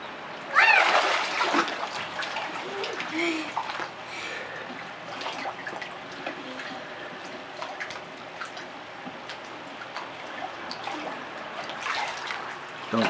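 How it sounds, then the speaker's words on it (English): A child splashes water in a bathtub, with irregular splashes and dribbles loudest near the start and lighter sloshing continuing throughout, close by, under occasional voice sounds. "Don't you splash up here."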